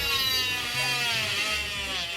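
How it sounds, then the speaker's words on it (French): An oscillating cast saw for removing a plaster cast runs steadily with a thin, high whine, close and continuous for a couple of seconds, no voices. "Pour retirer le plâtre, il faut une scie, mais pas n'importe laquelle."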